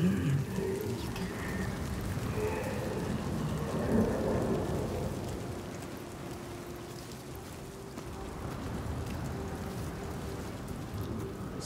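A storm in the video game Senua's Saga: Hellblade 2 brings steady heavy rain hissing on surfaces with deep rolling thunder rumbling underneath, swelling and easing over the whole stretch with no talk.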